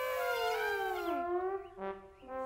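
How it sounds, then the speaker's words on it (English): Cartoon elephant calling out loud: a long trumpeting cry that sweeps downward, followed by shorter, fainter calls, heard alone and close. "The elephant is calling out loud."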